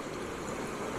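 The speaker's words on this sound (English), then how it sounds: "and a bit of a waterfall." A small waterfall and stream in woodland, a continuous soft rushing of flowing water, even and fairly faint, with no voices over it.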